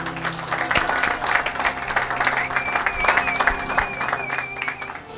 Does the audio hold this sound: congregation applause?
yes